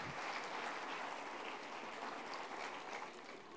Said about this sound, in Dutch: Uw aandacht en applaus voor Rob Kremers.